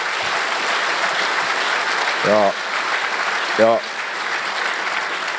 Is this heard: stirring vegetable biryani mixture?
no